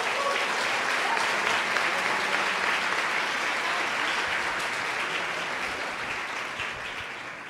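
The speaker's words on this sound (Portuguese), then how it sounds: "dá uma salva de palmas para Deus, por favor." A church congregation applauding during a Portuguese-language sermon, a dense, sustained wash of many hands clapping that stays loud throughout and eases off slightly toward the end.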